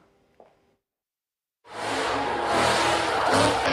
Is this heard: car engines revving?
yes